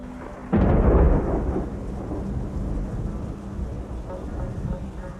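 A loud rumble of thunder bursts in close, then fades into a steady wash of heavy rain that continues to the end.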